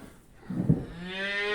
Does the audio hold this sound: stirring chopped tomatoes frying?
no